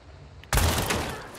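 A sniper rifle fires a single loud, booming shot in Hunt: Showdown, cracking in suddenly after near silence and ringing out with a long, rumbling tail.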